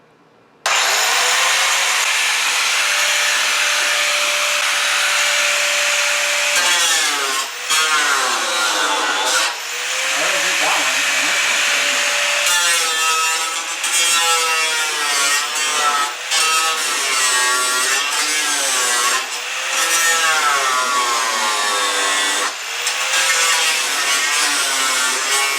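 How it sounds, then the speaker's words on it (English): A power grinder whines loudly and continuously, grinding off spot welds on a Volkswagen New Beetle front fender, its pitch dipping and rising as it bites in, with brief pauses between passes. "So we're just gonna grind them all off."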